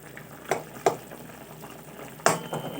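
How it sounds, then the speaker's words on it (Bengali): A pot of plain potato curry simmers on a high gas flame, with a soft bubbling undertone broken by a few sharp pops and splashes near the pot. "তারপরে ফুটছে"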